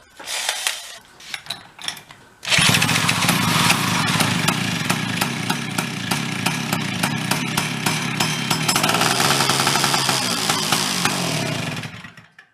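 A junked snow cycle's small engine cranks in a few short, uneven bursts, then catches and runs loud and steady close by for about ten seconds before cutting off.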